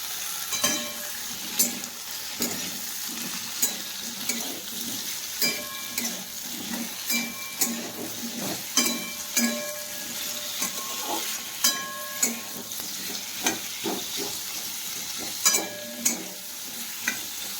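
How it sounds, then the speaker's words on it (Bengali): Potatoes frying in a hot kadai, a continuous sizzle punctuated by regular scraping and knocking strokes of a spoon stirring, repeating about once a second throughout. "আলুটা দিয়ে দিচ্ছি ফার্স্টে, আলুটা একটু ভেজে নেব"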